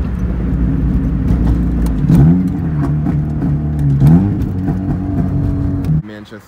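A Honda Civic's engine drones steadily inside the cabin, rising in pitch twice as it accelerates, with muffled road rumble throughout before cutting off near the end.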